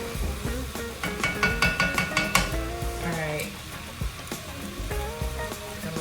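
Smothered okra cooking in a pan, with a steady sizzle and occasional stirring scrapes and clinks of utensils against the pot, close and continuous throughout.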